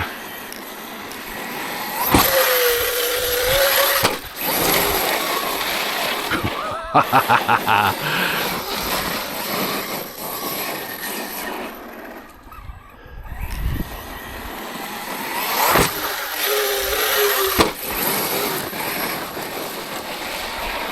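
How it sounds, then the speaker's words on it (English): An Arrma Granite BLX RC car with an open pinion and spur gear runs in repeated surging bursts of high electric motor whine with a metallic, rattly edge, rising and fading as it speeds up and slows. "It's got quite a distinctive sort of rattly sound. I think with it having an open pinion and spur, you can hear it a bit more metallic."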